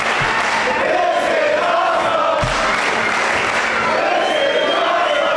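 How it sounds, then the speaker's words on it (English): Wrestling crowd at a CCW cruiserweight title match in Hialeah, Florida, applauding and cheering in a steady roar, with scattered shouts and a couple of thumps from the ring. "As the crowd shows their appreciation."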